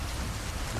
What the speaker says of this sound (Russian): и дождь вовсю льет